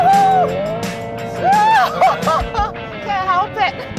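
Hyundai IONIQ 5N electric car's synthetic engine sound wailing up toward redline in rising, falling sweeps, loud and close, with speech and a little laughter over it.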